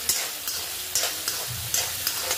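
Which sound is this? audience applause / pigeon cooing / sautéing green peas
sautéing green peas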